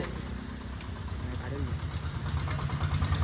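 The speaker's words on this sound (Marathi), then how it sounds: "हा बघा लक्ष्मीकांत, लक्ष्मीचा टेम्पो." A small tempo goods vehicle's engine idles close by with a steady low rumble throughout, under faint background sounds.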